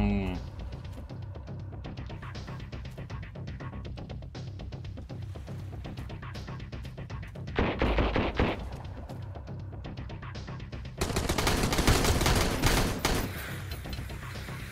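Bursts of gunfire, including shotgun blasts, in the survival game Sunkenland, a rattling run of clicks and shots with louder stretches midway and near the end, while a person talks over it.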